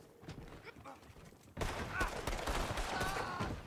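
Burst of gunfire in the Red Dead Online western game, a quieter stretch of game ambience giving way to a loud, dense fusillade of overlapping shots that keeps going to the end.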